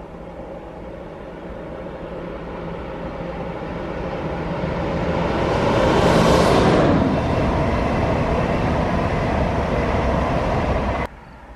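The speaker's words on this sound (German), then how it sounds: "Der ICE 685 nach Nürnberg, ein ICE 2." An ICE 2 high-speed train passing at night on a high-speed line at Rohrbach, a steady rushing roar that swells to a peak around the middle and then cuts off abruptly, with no voices.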